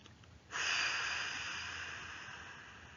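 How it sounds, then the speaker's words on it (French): A single forceful exhalation blown out through the mouth, a close breathy rush that starts suddenly and trails off slowly over a couple of seconds. "Expiration, soufflez fort par la bouche pour chasser les tensions accumulées dans votre dos."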